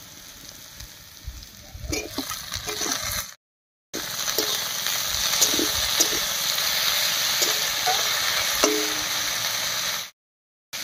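Chopped tomato goes into frying onions and garlic in a pan, giving a steady close hiss and sizzle with scraping stirs, broken by two short silent gaps.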